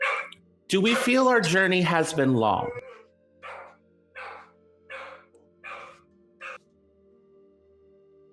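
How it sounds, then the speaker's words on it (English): A person speaks briefly, then the dog Bhaloo lets out a string of about five short, sharp barks, evenly spaced and fairly close. "please don't mind my dog"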